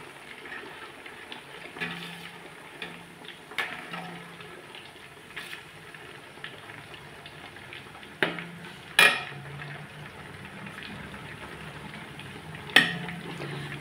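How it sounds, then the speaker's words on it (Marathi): Ghee cooks and is stirred in a pan, a low simmering sizzle under scattered scrapes and clanks of a metal spoon against the pan, with a few sharper knocks. "हे बघा आता काचवून तूप होणार."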